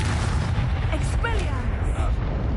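Expulso explosion curse going off in Hogwarts Legacy, a heavy, sustained booming rumble with a voice shouting over it.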